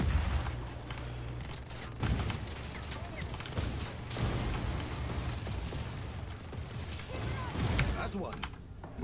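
Gunfire crackles in Just Cause 4, coming as repeated bursts and sharp reports spread across the stretch, with speech in the mix and a constant busy game backdrop underneath.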